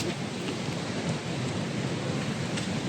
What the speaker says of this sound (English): Yeah, it's spitting now.